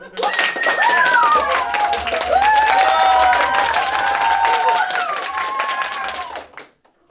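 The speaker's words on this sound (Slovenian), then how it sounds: "če lahko tukaj malo zaploskate na tej strani, samo ta strani, če lahko zaploskate" One side of an improv theatre audience at a show in Zasip claps steadily and loudly for several seconds, with lively whistled and vocal tones over the clapping before it fades out.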